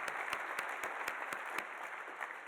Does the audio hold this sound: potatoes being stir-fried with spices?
no